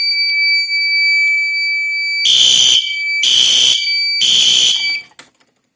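A fire alarm on a test panel is set off with a handheld test device, giving a steady high tone followed by three loud, evenly spaced horn blasts before it cuts out abruptly.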